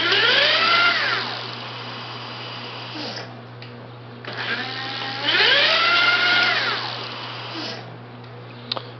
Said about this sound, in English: Here's the throttle. I do have it in my highest gear right now. So, as you can see, just sort of spins there.